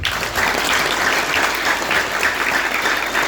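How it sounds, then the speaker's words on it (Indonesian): Audience at a public Islamic religious gathering clapping for santri students, a loud, dense, continuous burst of applause that holds steady throughout with no speech over it. "Tepuk tangan untuk para santri."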